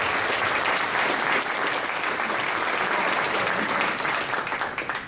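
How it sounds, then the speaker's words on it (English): A crowd claps loudly and steadily at a youth wrestling event, the applause holding strong before tapering off at the end. "let's give Zan and Aiden a big round of applause"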